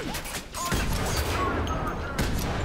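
Rapid gunfire in the shooter game F.E.A.R. 3 crackles in dense continuous bursts, with a brief gap before the shooting resumes and carries on loudly to the end.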